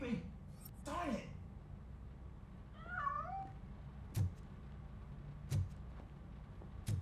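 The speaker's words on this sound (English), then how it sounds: "That cat must be hiding inside." A cat meows a few times in the RoboCop: Rogue City video game, with rising and falling cries near the start, then quieter mews and sharp thuds and clicks as it escapes, under faint background noise and brief voices.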